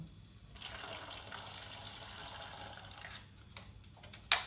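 Ice-cold water pours in a steady stream for about three seconds, then stops, followed by a few light clicks.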